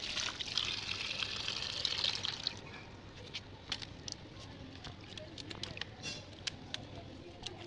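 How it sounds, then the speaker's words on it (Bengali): Water running over mangoes being washed at home, a steady soft hiss and trickle close by that is stronger at first, then quieter with scattered small splashes and drips. "চলো গাইজ, এবার ধুয়ে নিই আমগুলোকে।"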